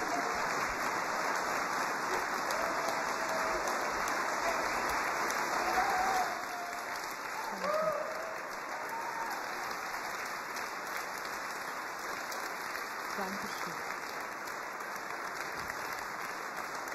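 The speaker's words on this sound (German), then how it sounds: "man sollte jetzt einfach nur mal ganz, ganz fest klatschen, damit sie noch mal auf die Bühne kommen" Audience at a ceremony for a parliamentary group's anniversary applauding continuously, a steady, moderately distant wash of clapping with a few faint voices and brief tones over it.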